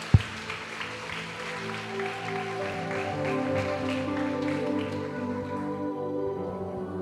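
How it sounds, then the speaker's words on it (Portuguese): A church congregation applauding during a service, steady clapping from many hands over sustained organ or keyboard chords, moderately distant and even. "Aplaudam o Senhor em nome de Jesus Cristo."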